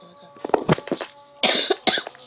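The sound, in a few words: person coughing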